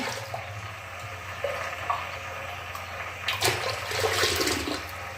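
Water is poured into a pot for making a sabudana papad batter, giving soft splashing and gurgling that builds in the second half over a quiet kitchen hum.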